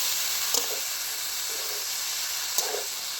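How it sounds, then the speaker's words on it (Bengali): Boiled cabbage and potatoes sizzle steadily in a frying pan, a constant hissing bed with a few soft stirring scrapes at regular intervals, close and moderately quiet. "সেদ্ধ করা বাঁধাকপিগুলো আলুর সঙ্গে ভালো করে আমি মিশিয়ে নেবো"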